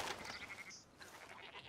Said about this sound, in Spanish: Aquí hay cabras, aquí hay cabras, aquí hay cabras.